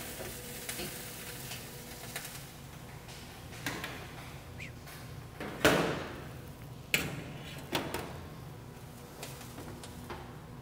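Whole roasted chickens just pulled from a Fagor combi oven sizzle with a steady, soft crackle, broken by a few sharp clanks and knocks of pans and tools being handled nearby.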